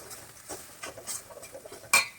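Onion-ginger paste with Kashmiri chili powder being stirred in a pan, scattered light scrapes and clinks of a utensil against the metal, ending in one sharper close clank.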